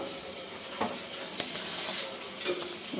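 Marinated chicken is stirred in a small uruli pot while a soft sizzle and hiss run underneath, broken by a few brief scraping knocks of the utensil against the pot; close by, with nobody speaking.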